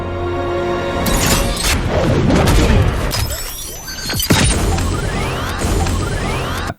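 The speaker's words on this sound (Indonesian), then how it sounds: "Gunner segera berbalik dan menembak Kai tepat di kepala." Gunfire and explosions from a sci-fi battle scene in the film Rebel Moon, loud crashes, whooshes and bursts layered over a dense, continuous action soundtrack with no pause.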